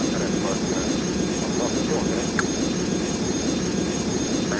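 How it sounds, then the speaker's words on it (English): Simulated airliner engines in the Airline Commander flight game roar steadily just after touchdown, a continuous broadband rumble that stays loud and even throughout. "We touched down the plane, and we're alright."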